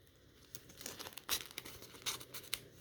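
Tape being torn off a package by hand: a quiet, close series of crinkling and ripping bursts, irregular and sharp, with short pauses between pulls and no speech.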